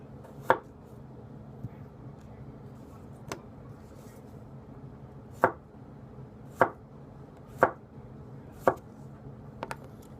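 A Gassan 210 mm gyuto knife slices through potatoes on a board in a quiet room. Sharp, distinct chops land every second or so, with a short double tap near the end.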